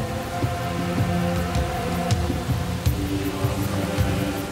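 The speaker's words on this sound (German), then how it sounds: "Obwohl es schon seit Wochen regnet" Steady rain falls through the whole stretch, a dense continuous patter with occasional slightly louder drops, moderately loud, with no talk over it.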